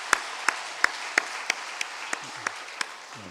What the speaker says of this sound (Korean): 여기 곳곳에 좀 앉아 계신데 박수 한번 해드리면 어떨까요?